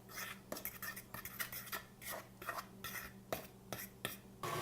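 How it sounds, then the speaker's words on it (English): Utensils clink and scrape against a bowl while carrot cake ingredients are stirred together, a steady run of close, irregular clatters and scrapes with no talking. "Then you mix it all."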